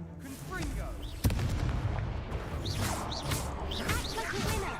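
Confringo spell explosion in the video game Hogwarts Legacy: a sharp blast followed by a rumbling, crackling burst amid ongoing combat noise and whooshing effects, with voices talking throughout.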